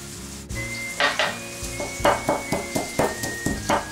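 Chopped garlic with salt being crushed in a mortar, a series of about eight rhythmic pounding strikes with grinding scrapes between them, close and clear with no talk.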